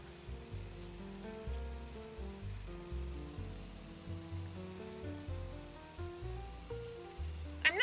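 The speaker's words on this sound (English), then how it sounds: "Yay, it rained. It's doing a heckin' rain." Steady rain falls in a farming video game, a soft continuous patter laid under gentle looping game music, with no talk.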